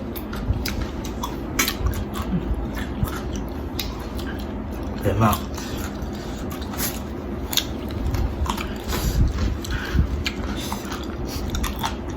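Apple snails being chewed and eaten with a spicy dipping sauce, giving close, repeated wet crunches and bites with soft smacking throughout, while someone talks intermittently over the eating.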